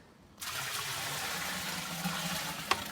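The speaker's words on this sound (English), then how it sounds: "And then I put about 2 gallons of water in." Water pours steadily into a Grainfather brewing system for about two gallons, a continuous rushing splash with a hollow fill tone, close and alone after a quiet start.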